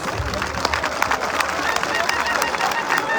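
A crowd at a public event with a senator speaking gives applause, dense clapping and murmuring voices, fairly faint and spread out.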